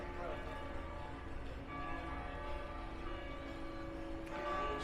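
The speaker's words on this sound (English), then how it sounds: "Hear the bells." Church bells ring at a big church in New Orleans' French Quarter at sunrise. Sustained, overlapping tones hum at a moderate distance over steady outdoor street ambience.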